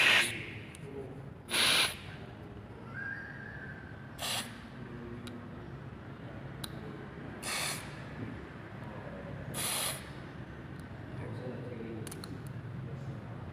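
Carburetor injector cleaner bursts from a spray can through a fuel injector in several short, sharp hissing blasts separated by pauses, with quiet background noise between them.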